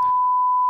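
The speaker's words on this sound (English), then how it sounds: "you have to beep that then" A single steady electronic censor bleep, a pure tone holding for under a second at constant loudness, cutting out speech on a podcast.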